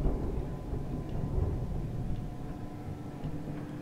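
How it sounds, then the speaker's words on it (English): Thunder rolls in the horror game Amnesia: A Machine for Pigs as a low, continuous rumble at moderate volume, swelling slightly partway through with no talk over it. "Just good old fashioned thunder."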